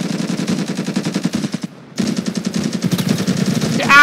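Rapid automatic gunfire from weapons in the video game Ravenfield rattles in dense, close bursts, broken by one brief pause and then resuming just as loud, with no speech over it.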